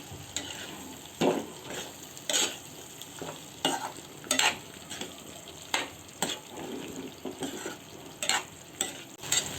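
A spoon scrapes and stirs peas and potatoes into a sizzling dhaba-style aloo matar korma masala in a pan. Repeated stirring strokes come over a steady, close frying hiss.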